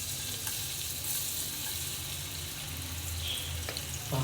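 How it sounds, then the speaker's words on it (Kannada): Chopped onion frying in hot oil for tempering a mutton sambar, a steady close sizzle that holds evenly throughout with no talk. "ಸೊ ಆನಿಯನ್ ಆ್ಯಡ್ ಮಾಡ್ತಿದ್ದಾರೆ ಈಗ."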